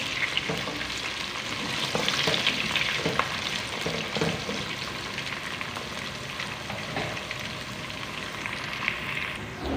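Onions, ginger and garlic sizzle and crackle steadily in a hot pan, with occasional scraping and stirring sounds, close up and without talk.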